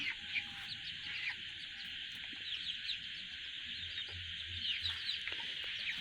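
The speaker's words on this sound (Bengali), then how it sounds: "ব্রাহ্মার বাচ্চা দেশি মুরগি বাচ্চা" A rooftop hobby flock of free-roaming Brahma and desi chicken chicks and hens, with continuous high cheeping and soft clucks at moderate distance, layered over a low background hum.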